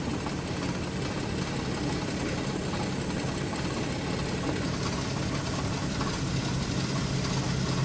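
A 2015 BMW X3 engine idling during a transmission fluid service, a steady close, continuous mechanical hum and rumble with no change in pace.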